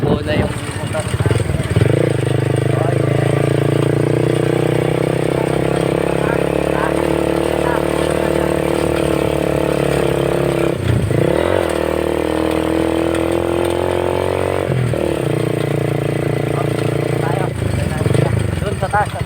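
A motorcycle engine strains loud and steady while climbing uphill toward a campsite, its labored drone broken by brief gear changes or throttle dips, with people talking over it.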